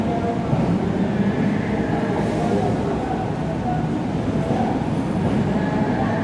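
Inside a moving KA Jayabaya passenger train hauled by a CC206 locomotive, a steady loud rumble of wheels and carriage noise fills the cabin without pause.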